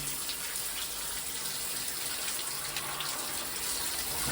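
Steady water running from a tap, a constant hissing splash with no pauses and no voices.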